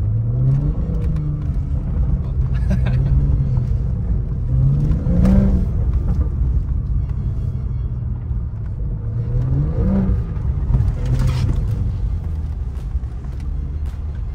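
A BMW accelerates on a frozen lake track, its engine droning loud and close with rising and falling revs that repeat every few seconds over a constant rumble.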